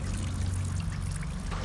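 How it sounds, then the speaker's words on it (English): Rain soaking the exposed concrete skeleton of an office tower, a steady, even wash of falling water with a low rumble underneath, continuous throughout without any talking. "The concrete skeleton of this office tower, once protected from the elements, is now getting soaked by rain."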